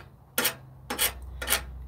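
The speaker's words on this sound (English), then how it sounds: "The first way is the scratch method, where you scratch it like that" A welding rod scratches across metal to strike an arc, three short harsh rasps spaced about half a second apart, close and alone.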